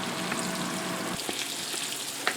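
Onions frying in butter in a pan, a steady bright sizzle with a few small pops and crackles, close and continuous with no talking.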